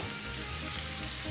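Chopped, deseeded olives frying in a pan for a Sicilian caponata, giving a steady, close hiss and crackle of sizzling oil with no talk.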